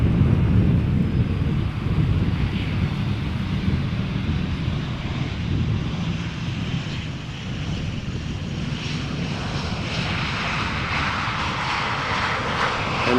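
A Royal Air Maroc airliner arriving from Nador at Amsterdam Schiphol produces a continuous broad engine roar mixed with wind buffeting, loud and steady throughout with no talk.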